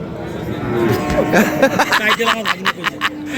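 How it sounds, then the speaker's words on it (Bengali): A cow moos at a busy cattle market, a drawn-out low call followed by a series of rhythmic lowing pulses, with people talking and crowd chatter around it. "গোপনের গরুটা, গোপন গরুটা, গোপনের গরু"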